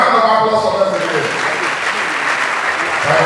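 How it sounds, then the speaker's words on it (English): Loud, dense applause fills a hall at a literary event honoring a Nobel laureate, starting with voices briefly over the clapping and continuing as an even wash of hands. "A round of applause for them again."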